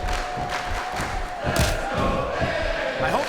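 Arena crowd in the WWE SmackDown vs. RAW 2007 video game cheering and roaring steadily at a wrestling event, a loud sustained mass of voices with thumps and swells throughout.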